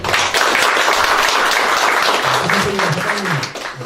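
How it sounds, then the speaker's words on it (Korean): Steady applause fills a room as an audience welcomes a party leader to a forum meeting, dense clapping throughout with a voice speaking over it near the end. "큰 박수로 맞아주십니다."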